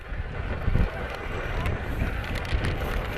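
Gusty wind buffets the microphone at an outdoor 2005 high school football game, Fairfield against Bermudian Springs, a steady loud rumbling roar with stronger gusts throughout.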